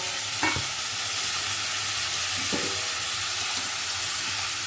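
Marinated chicken sizzling in a pan, with a steady broad hiss of frying throughout and a few brief scraping stirs from a spatula, close by, with no talking.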